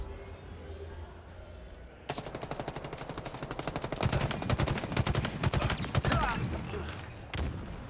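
Battle rifle fire in Halo Infinite comes as rapid, steady bursts of crisp shots, loud and close, over a busy bed of game noise and ambient rumble, with a couple of heavier impacts near the end.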